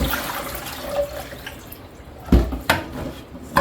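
Water trickles and splashes unevenly under a tap, with a few sharper knocks and splashes as eggs are rinsed nearby.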